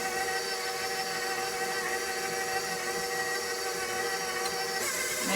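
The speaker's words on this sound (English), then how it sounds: "Now I got my mixing bowl. Let me turn my mixer this way. So you want to put it on stir." An electric stand mixer whirs steadily on its stir setting while mixing banana pudding, a constant motor hum with a slight shift near the end and no talk.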